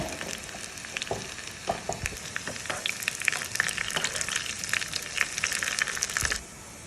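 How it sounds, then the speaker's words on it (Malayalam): Mustard seeds crackle and pop in hot oil in a pan, with dense, continuous sizzling and sharp irregular pops close by. The sound runs steadily until near the end, when it drops off abruptly. "ചൂടായി വരുമ്പോൾ കടുക് ഇട്ടിട്ട് പൊട്ടി കട്ടുക്ക് പൊട്ടിച്ചെടുക്കാം നല്ല അടിപൊളിയായിട്ട് പൊട്ടുണ്ട് കേട്ടോ"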